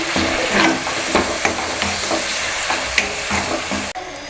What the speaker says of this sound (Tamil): சேர்த்துட்டு நல்லா மசிகிற அளவுக்கு வதக்கிக்கங்க.